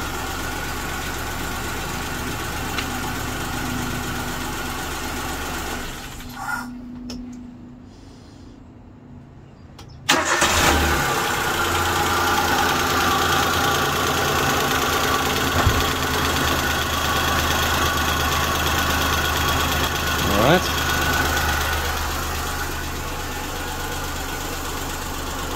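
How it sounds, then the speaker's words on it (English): A car engine cuts off briefly, then restarts and settles into a steady, rumbling idle that runs on alone while a tachometer is being installed. "I'm gonna turn the engine off and start it up."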